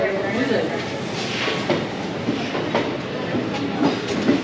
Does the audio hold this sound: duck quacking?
no